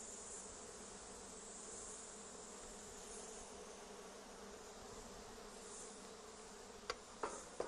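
Honey bees buzz around a Flow Hive being opened, a steady, faint swarm drone throughout, with a few sharp clicks near the end.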